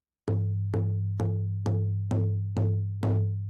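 Seven evenly spaced shamanic drum beats, each a sharp strike ringing out into a low sustained resonance, loud and close with no voices.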